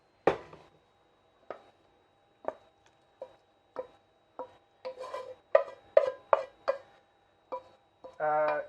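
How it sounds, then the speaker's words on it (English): A spoon stirs pasta into a creamy bacon sauce in a pan: sparse, soft taps and scrapes that come quicker near the end, close and quiet in an otherwise still kitchen. "Mix the pasta in with the sauce and it will let it finish cooking in the sauce"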